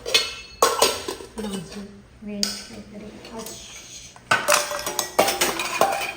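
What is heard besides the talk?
dishes and cutlery clinking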